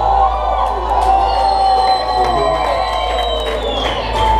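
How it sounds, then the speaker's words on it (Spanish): A concert crowd at a hip-hop show cheers, whoops and applauds in a loud, continuous roar, with shouts rising above the clapping and a low stage hum underneath. "Ese aplauso ha sido una mierda."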